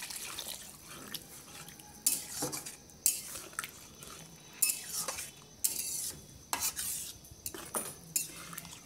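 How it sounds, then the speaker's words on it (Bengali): A spoon scrapes and knocks against a pan as chicken masala is stirred and sautéed, with irregular, close metallic scrapes and clinks over a faint background and no talk. "তো এটা একটু ভালোভাবে কষিয়ে নেবে"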